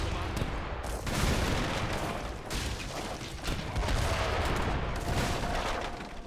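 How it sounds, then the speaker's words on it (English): Sustained battle din from Age of Empires 3 with mortar artillery fire, repeated booming volleys and gunfire crackle layered throughout, dense and continuous with swells of louder impacts. "Now deploy some forward mortars. It does also act as counter artillery units."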